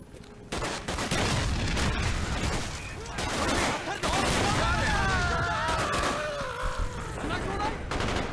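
Rapid bursts of gunfire from the video game Call of Duty Black Ops fill nearly the whole stretch, loud and dense, with a short lull near the start and a few booms mixed in.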